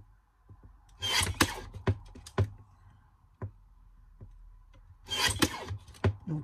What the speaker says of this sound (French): Donc je découpe toutes, bien sûr, tous mes motifs.